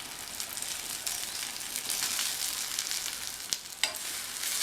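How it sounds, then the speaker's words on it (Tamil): Oil-fried raw banana pieces are stirred into masala in a pan, a steady close sizzle with scraping stirs and a couple of sharp spoon knocks near the end. "எண்ணெயில் வறுத்து வச்ச வாழைக்காயை இதில் சேர்த்துடலாம்."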